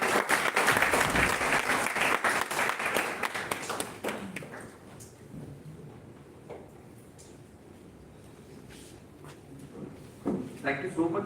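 Loud audience applause for a professor at a national oratory contest fades after about four seconds into a quiet room with occasional taps, shuffles and faint murmurs, then a voice begins speaking near the end.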